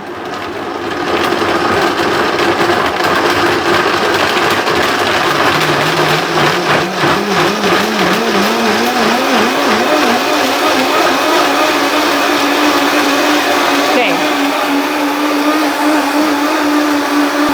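A blender grinding fresh, unsoaked vanilla beans into paste, a loud continuous motor whine that climbs in pitch as it is turned up slowly, with steady churning throughout and no talking.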